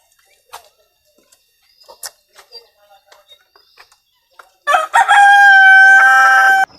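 Farm chickens at feeding time give soft scattered clucks and pecking sounds, then a loud rooster crow bursts in close and holds for about two seconds.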